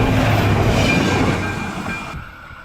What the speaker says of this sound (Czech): právě vidíte vlak, který projíždí